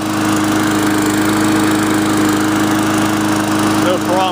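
An MTD push lawn mower engine runs steadily just after starting on one pull, a loud, even droning hum close by, with a brief voice near the end.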